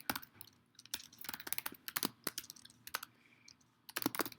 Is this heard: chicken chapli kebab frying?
no